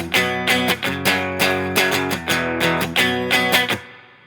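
Distorted electric guitar playing the riff of a song, with loud, steady strummed chords in a repeating rhythmic pattern that rings out at the end.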